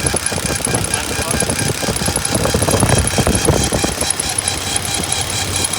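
A failing A6 air conditioning compressor on a 1975 Cadillac Fleetwood rattles and knocks steadily under the running engine, a continuous rough mechanical clatter up close while someone speaks over it.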